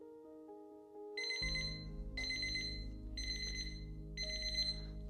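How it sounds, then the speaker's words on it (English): A timer alarm goes off during a quiet yoga stretching session, sounding as four repeated bright electronic beep bursts in a steady pulsing pattern over a low hum, fairly faint and without talk. "There's our timer."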